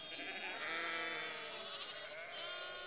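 Sheep and lambs on a farm bleat loudly and continuously, several overlapping wavering calls close by with no pause.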